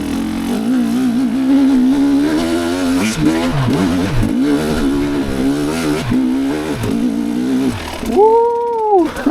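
A 2023 GasGas EC300 TPI dirt bike engine revving hard while riding on hills, a loud two-stroke drone rising and falling with throttle changes, ending in a sharp high rev climb and drop.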